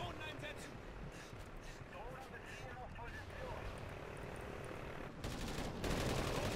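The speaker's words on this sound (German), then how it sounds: "Die schießen auf uns" Enemy gunfire in Call of Duty Ghosts, dense crackling shots and bursts over a constant roar of helicopter and battle noise, loud and continuous, swelling near the end, with a voice talking over it.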